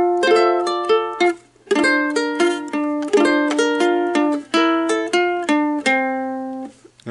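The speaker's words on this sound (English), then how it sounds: "So the beginning of the song sounds like this." A ukulele picks out the opening riff of a song in clear, evenly spaced plucked notes and ringing phrases, played solo and close with no voices.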